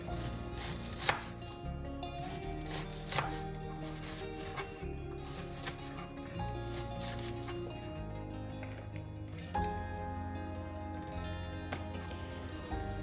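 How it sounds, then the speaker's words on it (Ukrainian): A knife chops a red onion steadily on a cutting board, quick rhythmic taps close by, with no talking. "трішки червоної цибулі"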